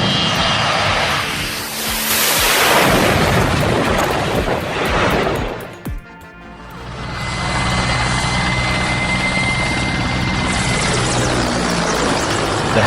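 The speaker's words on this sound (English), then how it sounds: "The helicopter swooped so close to the ground" A loud helicopter roars close by, its rotor thrum swelling, briefly dropping away, then returning strong and sustained.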